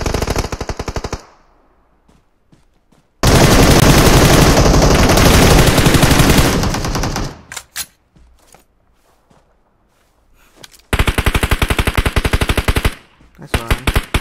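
PUBG Mobile gunfight: loud, rapid bursts of gunfire in long sustained volleys separated by quiet gaps with scattered footsteps and smaller shots, then another heavy burst near the end.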